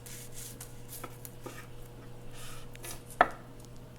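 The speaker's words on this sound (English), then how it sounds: "this is where I'll get into cutting some of the sides off" A knife trims the edges off a sushi roll on a cutting board: a few soft, scattered cuts over a low steady hum, ending in one sharper tap near the close, with no one speaking.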